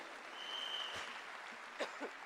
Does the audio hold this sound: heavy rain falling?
no